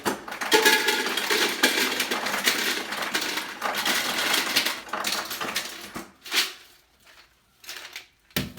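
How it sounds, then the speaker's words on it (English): Cubed ice pours from a refrigerator ice dispenser into a jug as a dense clatter of tumbling cubes. The rattle runs for about six seconds, then thins to a few scattered clinks and a final knock. "I'm going to fill this up from my ice dispenser."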